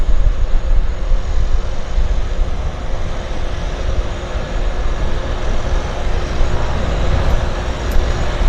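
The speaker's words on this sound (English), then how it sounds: "here's the arriving turbo, and of course we have another departing turbo" A turboprop floatplane at a harbour airport gives a loud, steady, broadband engine roar that holds throughout with no pauses, heard from moderately close with no voices.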